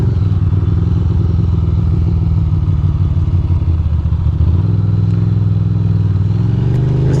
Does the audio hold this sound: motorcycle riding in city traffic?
yes